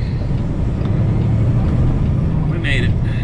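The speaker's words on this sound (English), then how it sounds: "Truck doesn't have a lot of acceleration. It tries to shift gears too much, too quickly." A semi truck pulls away from a truck stop, its engine droning steadily up close with low rumble throughout, briefly rising in pitch near the end as it works through gears.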